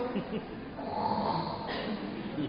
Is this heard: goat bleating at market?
no